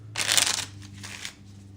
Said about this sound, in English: I'm going to just shuffle the cards here